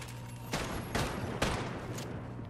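Several sharp gunshots crack out in a Fortnite match, three or four distinct bursts spaced about half a second apart over a steady background hum, fairly close and with no talking.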